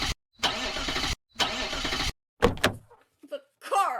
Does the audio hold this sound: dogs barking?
no